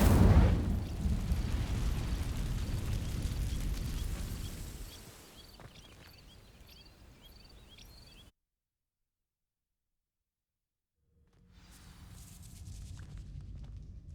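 An Incendio fire spell in Hogwarts Legacy ignites dry vines with a loud burst and roaring, crackling rush of flame that fades over several seconds, then silence before quieter ambience returns.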